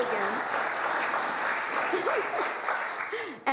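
A large crowd of Democratic supporters applauds steadily at a political speech, dense clapping filling the room throughout, with cheers and whoops rising over it.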